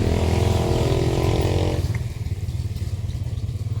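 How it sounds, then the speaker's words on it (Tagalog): A loud motorcycle engine roars close by, then fades as it moves away, leaving a low rumbling idle. "Maingay may motor na yun."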